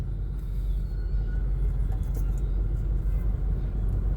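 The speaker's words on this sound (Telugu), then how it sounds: "వెనకాల కూడా చూడండి ఎంత ట్రాఫిక్ ఉంది." Dense traffic on a busy city road beside a new flyover, with a steady low rumble of cars and buses running throughout, loud and continuous and free of talk.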